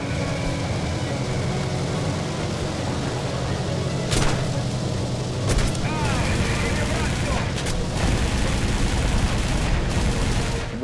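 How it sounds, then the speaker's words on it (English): A World War II era plane in War Thunder taking gunfire, rapid bursts of shots and impacts cracking over a constant loud engine drone, with someone talking now and then. "We're getting shot up now."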